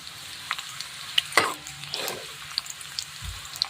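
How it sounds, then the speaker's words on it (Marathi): Half a spoon of cumin seeds frying in oil alongside garlic, giving a faint crackle with scattered pops and a few sharp utensil clicks, close by with no talking. "मी अर्धा चम्मच जिरं घेतलेलं आहे जिरं पण छान असं तळून घ्यायचं आहे"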